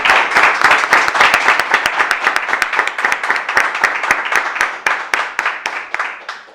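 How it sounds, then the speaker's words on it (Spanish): Rhythmic, fairly loud clapping from a small audience closing an immigration regulation advisory session, with sharp distinct claps that start dense and gradually thin out and slow over several seconds. "terminamos con un aplauso"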